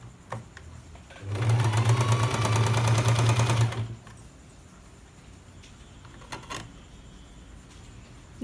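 A sewing machine stitches the side seams of a Patiala pant: one close, steady burst of rapid needle whirring lasting a few seconds, then quiet with a few faint handling clicks.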